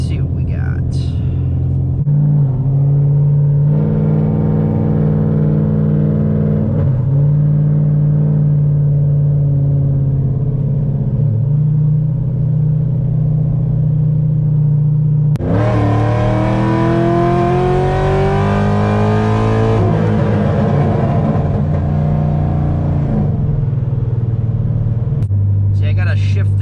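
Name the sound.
Corvette C6 engine revving while driving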